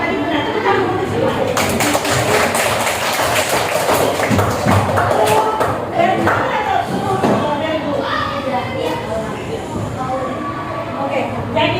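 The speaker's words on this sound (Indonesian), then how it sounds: "Tepuk tangan untuk semua." A class of students claps together in a classroom, a dense, steady patter of many hands lasting several seconds, mixed with voices and a few thumps.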